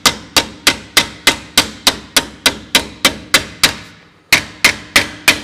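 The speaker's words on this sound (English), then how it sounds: "pull that back into a straight line just with the hammer on the piece of round bar." A hammer strikes a metal tube resting on a round bar to straighten a replacement tubular section for a 1920s convertible top. Sharp ringing blows land at a steady beat, about fifteen of them, close and loud with one brief pause.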